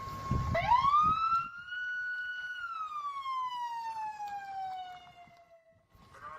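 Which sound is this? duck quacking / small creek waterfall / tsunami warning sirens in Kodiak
tsunami warning sirens in Kodiak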